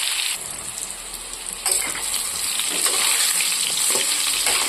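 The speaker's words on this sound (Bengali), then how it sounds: "এইগুলোকে আমি সুন্দর করে ভাজবো।" Potato and eggplant pieces fry in a pan with a steady, close sizzle and crackle that grows slightly louder, with occasional stirring scrapes and no talking.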